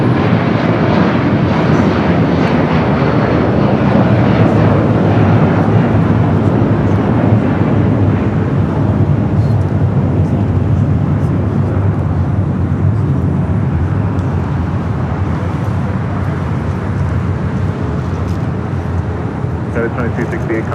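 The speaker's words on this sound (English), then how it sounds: "We do have that Atlas Air Polar Air Cargo Flight 8049 heading to Hong Kong at 747-8. We're going to be taking off 25 left." Atlas Air Polar Air Cargo Boeing 747-8 taking off from runway 25 left at Los Angeles International Airport, a loud broad jet roar sustained throughout and slowly fading, with a voice talking over it.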